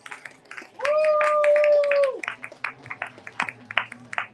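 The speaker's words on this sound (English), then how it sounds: "A round of applause." Scattered, sparse clapping from a small audience at a book-reading booth at the Printers Row Lit Fest in Chicago, following a steady electronic whine that cuts off abruptly.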